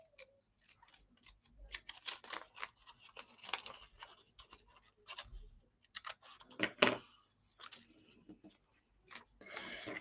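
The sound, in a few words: cutting craft material to size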